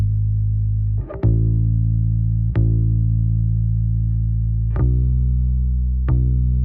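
A bass guitar in a Logic Pro X mix plays through a subtle distortion plugin, sustained low notes with a few plucked attacks, the added grit lifting mid and high harmonics.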